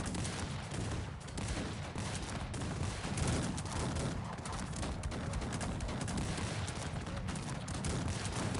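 Cannon fire in the strategy game Cossacks 3, a dense and continuous barrage of booming shots with gunfire crackle that blurs into one loud wash of battle noise.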